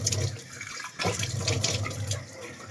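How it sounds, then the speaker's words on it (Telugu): Water splashes onto a face during an oily-skin cleansing routine, a wet burst of splashing and dripping that breaks briefly then resumes, close and loud with no talk. "ఇప్పుడు వాటర్ కొడితే చిగ్గుమంటది ఫేస్."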